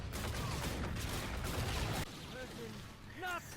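Heavy, dense gunfire from the video game Call of Duty Infinite Warfare, Zombies in Spaceland mode, rattles for about two seconds before cutting off, followed by quieter game sounds while someone talks.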